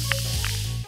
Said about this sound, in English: Pour some Sprite into a glass.